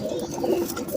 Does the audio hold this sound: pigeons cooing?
yes